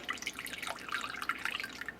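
Water trickles and drips as it is poured into a plastic container for a homemade cleaning solution. The sound is close and steady, with no one talking.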